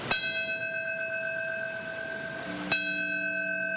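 Two memorial bell strikes at a September 11 ceremony at the Twin Towers site ring out, each followed by a long sustained shimmering tone that hangs and slowly decays.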